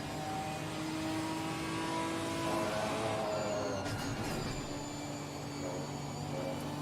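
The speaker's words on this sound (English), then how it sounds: "And you gotta love the sound of that Ginetta too." Ginetta GT4 race car engine in the racing game Assetto Corsa Competizione, a continuous droning engine note with shifting revs and gear changes, steady and moderately loud without speech.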